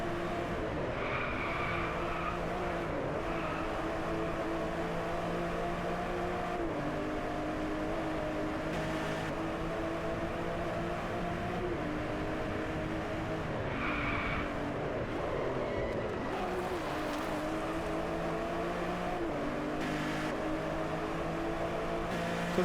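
Racing cars in the video game Driveclub roar and rev steadily at close range, engines shifting pitch through gear changes, with repeated tire squeals and skids as they corner hard; no voices.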